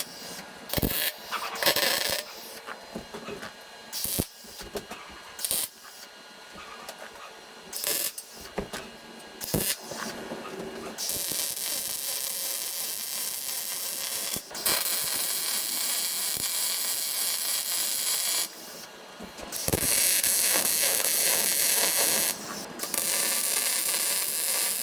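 Gaps on a steel tree shear for a Kubota BX are filled by welding: a string of short crackling tacks and pauses, then long continuous sizzling runs, loud and close, with no speech.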